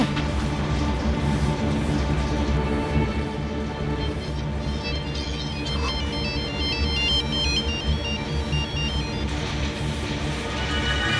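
A phone rings with a repeating electronic melody, steady and fairly loud over a low hum, continuing for several seconds.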